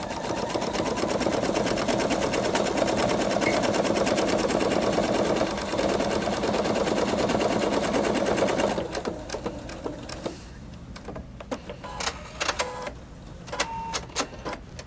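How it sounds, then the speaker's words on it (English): A Pfaff Creative 3.0 sewing machine stitches out a pattern in a fast, steady, close mechanical whir for about nine seconds, then stops, leaving softer clicks and handling noises. "I can stitch a little bit out so you can see what it looks like when we stitch this out normally."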